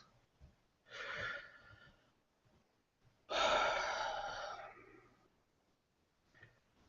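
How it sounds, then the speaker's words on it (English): A person takes a deep breath alone in a quiet room: a short breathy inhale, then after a pause a longer, louder exhale that slowly fades. "So right now, together, I'm going to take a deep breath."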